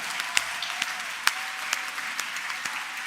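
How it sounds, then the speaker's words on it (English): An awards-ceremony audience at the British LGBT Awards 2021 applauds the other nominees in a category: dense, steady crackling applause with a few sharper individual claps standing out, no talking. "Please give a big round of applause to every other person that's been"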